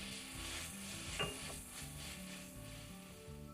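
Escarole and potatoes being stirred in tomato sauce in a pan, a steady soft scraping and gentle sizzle running throughout, with one brief sharper clink of the spoon partway through and no talking.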